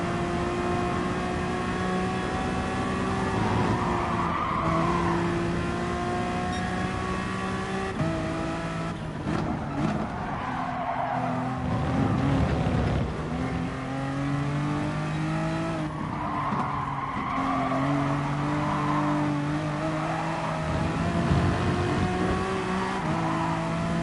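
Race cars in the video game GT Sport roar continuously with engine whine rising and falling through gear shifts, tires skidding and another car running close alongside, loud and steady throughout with no talk.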